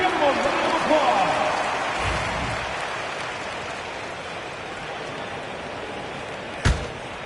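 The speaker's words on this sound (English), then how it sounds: "Give them a round of applause." Crowd noise at a Knicks NBA basketball game, a dense, steady wash of applause and cheering that slowly fades, with one sharp thump near the end.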